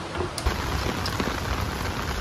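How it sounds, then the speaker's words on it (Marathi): Heavy monsoon rain pouring down in Mumbai, a dense continuous roar of drops striking surfaces nearby, steady and loud with no voices. "बाहेर लय भयंकर पाऊस चालू आहे. तर ते तुम्हाला दाखवतो सगळा पाऊस कसा आहे."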